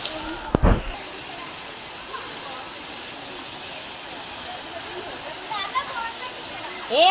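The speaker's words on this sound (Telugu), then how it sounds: "వాటర్ ఫాల్స్ దగ్గరకు వచ్చాము, చూపిస్తాము. అక్కడి నుంచి చూడండి వాటర్ ఫాల్స్." A waterfall near a temple gives a steady, even rush of falling water heard from a short distance, with a brief sharp knock near the start.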